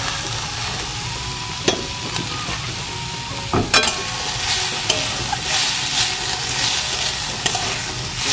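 Grated potato and onion with chopped green chilli frying in a pan, a dense bright sizzle throughout with several sharp scraping clicks of a spatula stirring the mixture.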